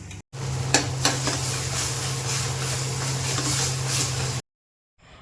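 Loud, steady sizzling of hot mustard oil crackles continuously for about four seconds as asafoetida and cumin are tempered in it, then cuts off abruptly.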